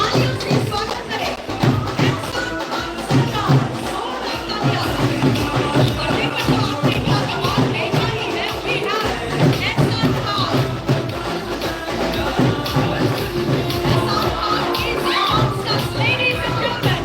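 A live event audience in Malaysia welcomes a celebrity with sustained clapping and crowd noise, a dense wash of applause with scattered shouts lasting throughout.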